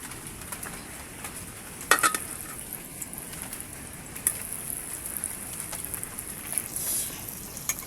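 Margarine sizzling as it melts in hot annatto oil in a pan, a steady close crackle and hiss throughout, with a few brief clatters of a utensil.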